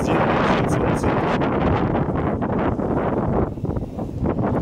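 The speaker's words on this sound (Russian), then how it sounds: "бешеный ветер, волны" Strong, gusty wind blowing by the sea in winter at Alanya, roaring steadily into the microphone with a broadband rush that eases slightly near the end.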